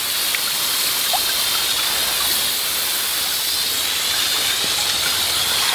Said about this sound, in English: So I'm just going to wash everything off real good.